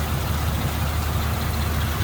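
A 1939 LaSalle five-passenger four-door sedan engine runs smoothly at idle, recorded close over the engine bay as a loud, even, continuous low rumble with no speech.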